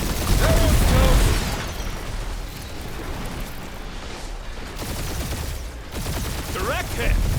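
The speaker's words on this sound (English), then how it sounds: "We're taking fire." Rapid gunfire and blasts during a space battle in Marvel's Guardians of the Galaxy video game, loud and continuous bursts with rumbling impacts, under voices talking.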